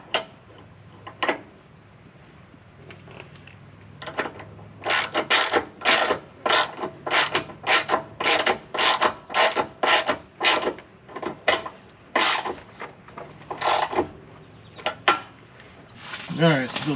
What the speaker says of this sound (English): now it's time to tighten down the bolts that hold the arm onto the torsion bar